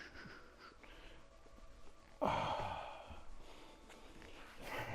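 Breathing during a jiu-jitsu workout on a mat: soft, close exhales and sighs with a sharper, louder breath partway through, set against quiet background noise.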